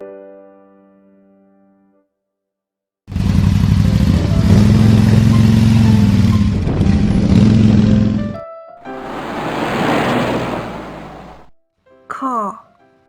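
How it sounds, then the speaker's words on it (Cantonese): A toy motorcycle plays a loud recorded engine roar for several seconds, then a second shorter burst, ending with a brief chirpy electronic sound after quiet gaps. "motorcycle 電單車"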